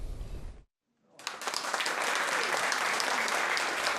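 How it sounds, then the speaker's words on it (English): Loud, sustained applause and cheering fill a graduation ceremony for Aboriginal students finishing a bridging course at Kapuka Army Base, breaking out after a brief silence and holding steady as families, friends, teachers and fellow recruits clap. "Families, friends, teachers and fellow recruits cheer aloud"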